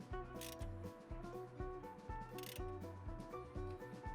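Ratcheting and mechanical clicking from a torque wrench tightening the brake caliper carrier bolts to high torque on a VW Golf MK6 2.0 TDI GT, in repeated rhythmic bursts, close and clear with no talk.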